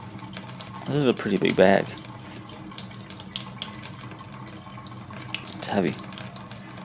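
Water runs from a tap over a heavy filter bag from an Innovative Marine Nuvo Concept Abyss aquarium, a steady close splashing that swells in bursts while someone talks over it.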